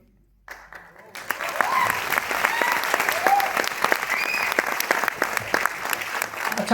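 An audience at a seminar bursts into sustained applause after a quiet second, a dense wash of clapping from many hands that holds steady to the end.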